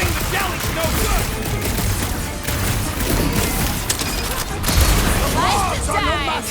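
Continuous gunfire and bursts from a Guardians of the Galaxy video game fight, loud and busy, mixed with crashes and character voices talking over the action.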